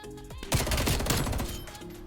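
FAMAS rifle fire in Black Ops Cold War: a loud, dense burst of rapid automatic shots kicks in after a short quiet lead-in and rattles on steadily near the listener for most of the clip.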